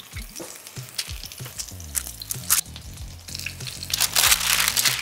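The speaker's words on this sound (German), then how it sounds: "während die eine Plesniewice in der Pfanne vor sich hin brät, 1 bis 2 Minuten bei mittlerer Hitze" A Serbian pljeskavica minced-meat patty fries in a pan over medium heat. There is a steady close sizzle with light crackling and crinkling, over a faint tonal background.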